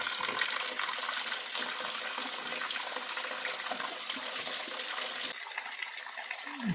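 Water gushing steadily and loudly from a broken pipe in an apartment building, a continuous rushing torrent that holds nearly constant, with a brief change in tone near the end.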